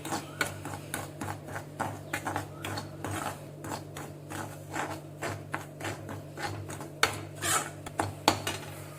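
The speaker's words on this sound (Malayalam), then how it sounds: "റവ നന്നായിട്ട് വറുത്തെടുക്കാം." Semolina (rava) being dry-roasted in a pan for rava kichadi, a spoon stirring and scraping in steady, repeated clinks and scrapes close by over a low constant hum, with no talking.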